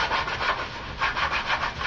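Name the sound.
sanding block rubbing plastic hockey mask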